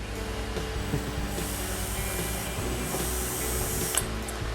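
A drill driver bores holes through a plastic splitter extension for a 2018–2023 Mustang GT/EcoBoost, making a continuous high motor whine with grinding and rubbing. It is close and steady, with a sharp burst near the end and no talking.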